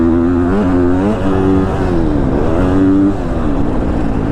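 A 2022 KTM 250 SXF four-stroke dirt bike engine runs loud and steady, its pitch climbing and dropping through several rev swells and gear changes while riding, alone with no talk.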